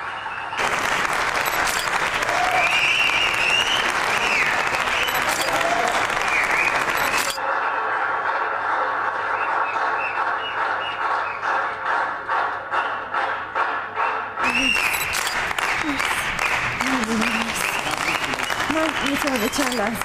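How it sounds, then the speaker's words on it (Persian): Applause from an audience at a documentary film award ceremony rises and runs strongly throughout, thinning briefly in the middle before swelling again, with some voices mixed into the clapping. "خواهش میکنم تشویقشون کنید که تشریف بیارن روی صحنه."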